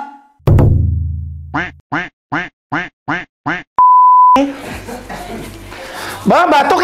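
Six evenly spaced, punchy duck quacks in quick succession, loud and close, followed by a short electronic beep and then a burst of mixed noise.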